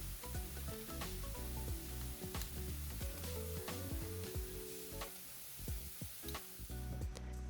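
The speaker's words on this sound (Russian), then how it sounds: "Пока жарятся грибы, ставим вариться пасту" Diced mushrooms sizzling steadily in a frying pan for a homemade pasta with cream sauce, a continuous close crackle with occasional sharper pops and a faint stirring scrape.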